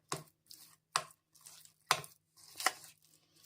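Marinated prawns coated with chilli and salt are stirred in a bowl, giving four or five distinct wet scraping strokes in an uneven rhythm, close and fairly loud, with short silences between them.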